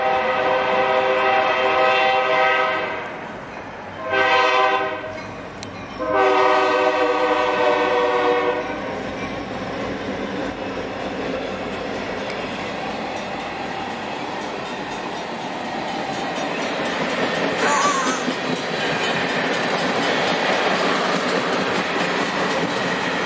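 A train horn blares in several long blasts, then the rumble and clatter of a fast train rushing past fills the rest, loud and steady.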